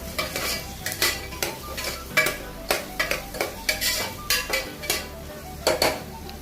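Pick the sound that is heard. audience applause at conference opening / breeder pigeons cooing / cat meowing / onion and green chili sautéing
onion and green chili sautéing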